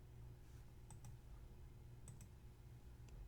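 Several sharp, quiet clicks of calculator keys being pressed for a calculus problem, arriving in small clusters over a steady low hum, with no talking.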